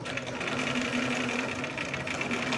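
A Bernina 830 sewing machine running steadily as it backstitches across ribbon, with a continuous close-up mechanical whir and rapid needle chatter, no voices.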